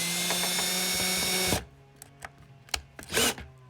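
Power drill driving screws to fit a door weather strip: a loud, close whir runs for about a second and a half, then stops, followed by scattered clicks, knocks and a short burst of drilling.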